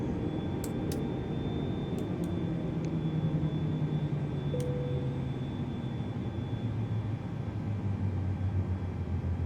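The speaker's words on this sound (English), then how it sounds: "And the engines can be turned off now." Airbus A320neo jet engines in Microsoft Flight Simulator 2020 shutting down, a continuous steady rumble and whine slowly sliding lower in pitch, heard alone without any voices.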